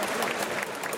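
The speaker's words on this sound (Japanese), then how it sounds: "拍手でお迎えください。" A stadium crowd at a baseball game applauds a ceremonial first pitch, the clapping dense but distant and moderate in level through a brief second.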